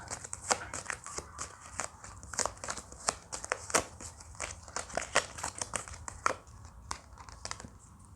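Playing cards drawn and handled during a tarot reading, crisp crinkling and papery snaps repeating in a quick irregular rhythm, close and fairly quiet, with no voices.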